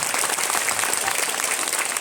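School students clap in unison for their headmaster, a dense, loud burst of applause filling the room without pause.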